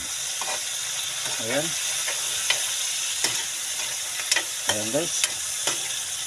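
Vegetables being sautéed and stirred in a pan for a Filipino ginisang gulay: a steady sizzle with scattered utensil scrapes and clinks, while a person talks over the cooking.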